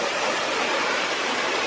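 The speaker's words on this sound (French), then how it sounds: "Voilà, première cascade." A small waterfall near Tendon in the Vosges pours with a steady, dense rushing hiss, close and continuous through the short moment, with no voices.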